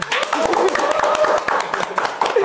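Studio audience applauding on an Indonesian television quiz show after a correct answer, a steady burst of clapping with overlapping voices talking and calling out throughout.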